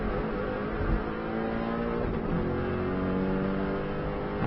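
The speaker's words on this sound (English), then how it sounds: "Now we're flat out, car bounces across the road." A Subaru rally car runs flat out on the Isle of Man TT road course, its engine holding a steady loud roar from inside the car with little change in pitch, no voices over it.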